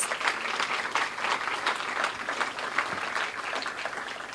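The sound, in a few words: audience applause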